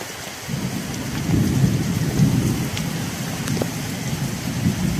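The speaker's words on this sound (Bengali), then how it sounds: "এত জোরে বৃষ্টি হচ্ছে" Steady heavy rain pours down on a street, a dense hiss with low rumbling beneath it, continuous for the whole stretch.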